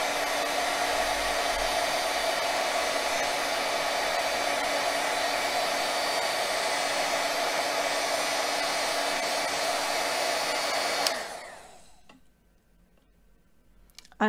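Heat tool blowing steadily as it heats and melts shrink plastic in a craft project, a loud continuous hot-air roar that cuts off near the end, leaving near silence before a brief click.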